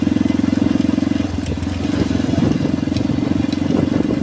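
A motorcycle engine idles steadily and close by in a spacious parking lot that doubles as a rest area, a low throbbing rumble with light mechanical clatter throughout.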